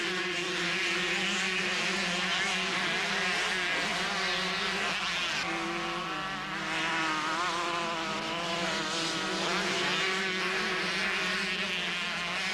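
Several Suzuki, Kawasaki, Honda and KTM motocross bikes race at a 1990 Dutch national event, their engines forming a continuous, loud, wavering drone with shifting pitch as the machines rev and pass.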